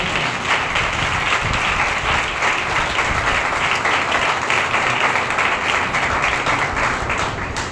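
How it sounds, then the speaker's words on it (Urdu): Sustained applause from a congregation at a church healing service, steady and full for the whole stretch, with no voices rising above the clapping. "آئے یسوع کے لیے زوردار تالیاں"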